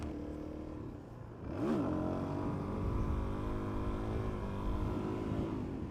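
A 2017 Suzuki DRZ400SM single-cylinder motorcycle revs up from a steady drone into a rising, sustained engine howl as it lifts into a wheelie, close and moderately loud.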